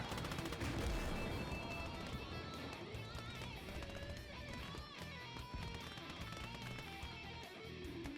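Combat in the Gates of Hell: Ostfront video game, a dense barrage of gunfire and machine-gun bursts with heavy impacts, loudest at the start and continuing steadily throughout.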